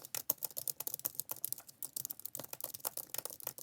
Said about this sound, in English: So my fingers are very used to typing on this flat ass keyboard.